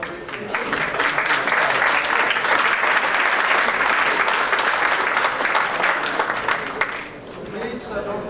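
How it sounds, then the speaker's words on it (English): Loud, sustained applause from a conference audience for a group of speakers, dense clapping at a steady level for several seconds before easing slightly near the end. "But first of all, another round of applause for all these speakers."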